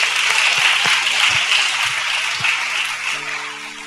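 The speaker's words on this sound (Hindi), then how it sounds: "जोर से ताली बजा के प्रभु को धन्यवाद दें।" A church congregation clapping loudly in thanks during a worship service, a dense sustained burst of applause that fills the room and slowly tapers off.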